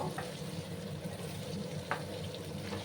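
Potato pieces frying on high heat give a continuous soft sizzle and hiss, with a couple of faint stirring scrapes, close but fairly quiet and without talk.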